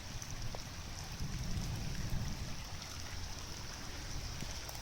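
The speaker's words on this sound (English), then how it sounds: "this rain just started about less than 20 minutes ago. And you can already see what this gully washer's doing." Heavy summer downpour falling on a vegetable garden, a steady, dense hiss of rain drumming on surfaces and foliage with a low rushing undertone, continuous and close throughout with no voices.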